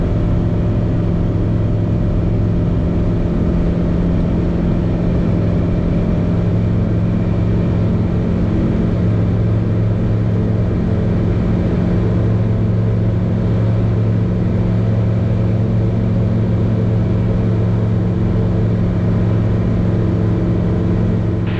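A light aircraft's piston engine drones steadily and loudly through its takeoff roll on the runway, a constant hum with even tonal bands and no voices.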